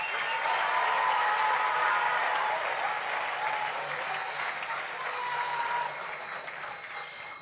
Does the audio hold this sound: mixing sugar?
no